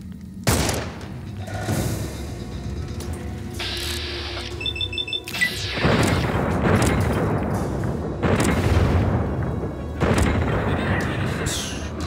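Gunfire in the video game Fallout New Vegas, with a player shooting a pistol at mole rats: repeated sharp shots and booming bursts over a steady game ambience, with brief mechanical clicks midway.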